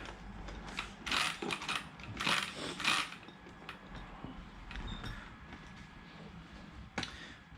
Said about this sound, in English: You need one of those big wrenches. Open this thing up.